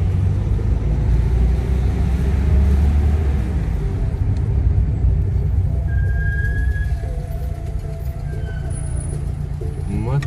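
A Daewoo Matiz taxi engine hums steadily at close range with a low, droning rumble, while muffled voices talk faintly inside the cabin.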